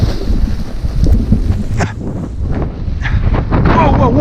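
Strong wind buffets the microphone as a paraglider launches, a loud, rough roar of gusts that swells and dips throughout, with a person talking under the noise.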